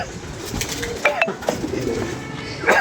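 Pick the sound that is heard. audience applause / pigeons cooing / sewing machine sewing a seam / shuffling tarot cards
pigeons cooing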